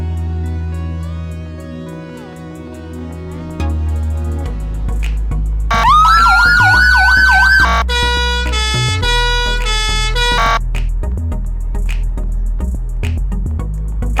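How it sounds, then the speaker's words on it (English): A blue-light emergency response car siren is tested at a North West Ambulance Service HART base, cycling through loud rising-and-falling wails and then rapid yelp patterns over a steady low engine rumble, close and dominant. "I'm going to show you a nice blue light siren test."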